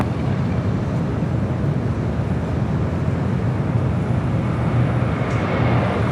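Steady, loud broadband jet roar of an airplane coming in to land on runway 25 left at LAX, continuous and unbroken throughout.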